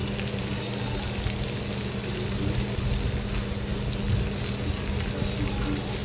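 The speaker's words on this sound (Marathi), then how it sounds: "आता बारीक चिरलेला कांदा घालायचा आहे" Finely chopped onion fries in oil with asafoetida, a steady dense sizzle with constant crackle and no pauses.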